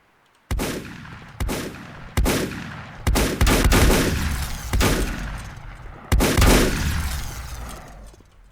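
Shotgun blasts in the video game Volcanoids, about seven loud, close booming shots, some fired in quick pairs, each with a long rumbling decay, no talk.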